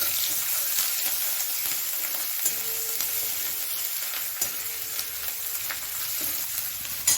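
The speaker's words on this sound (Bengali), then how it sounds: "দিয়ে তাকে একটু ভাজা ভাজা করে নিয়ে এর মধ্যে আমি দিয়ে দেবো প্রথমে রসুন বাটা একটু," Steady, close sizzling of garlic and ginger paste frying in a hot pan with whole cinnamon, a broccoli-and-egg dish under way, the hiss continuous with light stirring scrapes and no talking.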